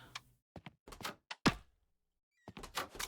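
Doors opening and closing in the video game Shift at Midnight: a string of short, sharp thuds and clicks, with a few quick bursts early on, a louder slam near the middle, a silent gap, then a busier cluster of knocks.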